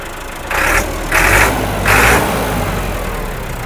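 A tractor engine started by remote idles with a steady low rumble, swelling into three louder revving surges before settling back to idle, with no one talking.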